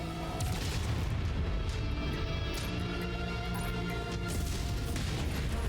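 A missile explodes in the MechWarrior 5: Mercenaries giant-robot combat game, a loud, sustained booming rumble amid dense battle noise with no clear single blast standing out.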